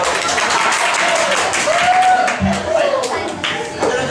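A live audience claps in steady applause for a contestant named Bell at a casual group vote, the clapping dense and continuous with voices and cheers mixed throughout.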